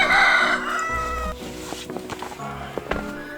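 A rooster at an off-grid tent campsite crows loudly and near, a long harmonic call that peaks early and then fades, with other fowl and farmyard sounds scattered behind it.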